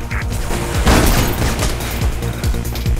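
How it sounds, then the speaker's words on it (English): Gunfire in the first-person parkour game Mirror's Edge, a rapid series of sharp shots and booming impacts throughout, loud and dense with overlapping game sounds. "I can hear gunshots."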